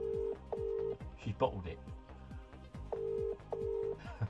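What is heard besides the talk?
telephone ringing on speaker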